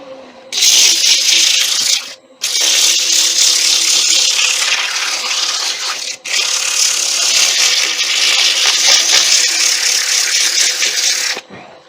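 A wood-turned tea light holder being sanded on a lathe, producing a loud continuous whirring rasp in three long passes separated by brief pauses.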